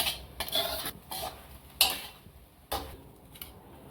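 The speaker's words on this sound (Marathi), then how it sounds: "ते चांगलं भाजून घेऊ त्याच्यात। कमी गॅसवर चांगलं भाजून घ्यायचं ते।" A utensil stirring grated fresh coconut as it roasts in a pan over low heat, giving repeated scraping and clinking strokes at an uneven pace, close and fairly quiet.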